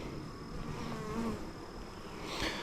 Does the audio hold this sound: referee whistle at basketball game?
no